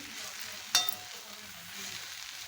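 Colocasia leaves with kokum sauté in a pan with a soft, steady sizzle, marked by one sharp clink or scrape early on, then quiet frying continues alone.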